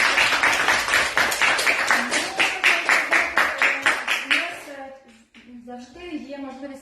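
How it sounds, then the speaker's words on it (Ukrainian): Applause at an award ceremony for a regional out-of-school children's competition, a loud, even, rhythmic clapping from a crowd that fades out, after which a voice begins speaking. "Отже, ще раз аплодисменти"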